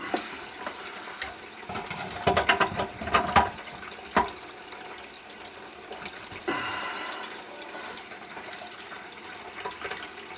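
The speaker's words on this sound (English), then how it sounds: "Still dripping a little bit." Water drips and trickles from a leaking kitchen sink drain onto a basket strainer, a few close splashes and taps clustering early, then a softer running trickle continuing.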